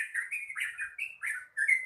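A yellow-vented bulbul sings a steady run of bright, bubbling chirps and whistled phrases, loud and close with short gaps between bursts.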